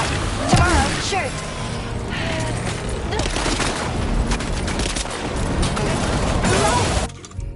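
Gunfire in Death Stranding 2, a continuous chaotic barrage of shots and mechanical clatter with a few sharp booms, loud and close throughout, with a voice speaking over it before the noise drops away at the end.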